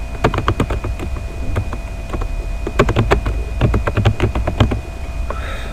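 Computer keyboard typing in quick, irregular bursts of close, crisp key clicks against a faint steady hum, with a brief pause midway.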